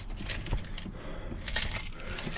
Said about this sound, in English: Sorry, I dropped my keys.